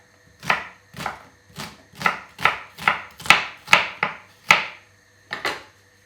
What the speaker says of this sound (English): chop up the onions